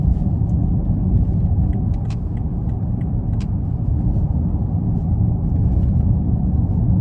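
A 2017 BMW Alpina B7 with a 4.4-litre twin-turbo V8, driven in Sport Plus mode, gives a steady, full low engine and road rumble heard from inside the cabin, with a few faint ticks above it.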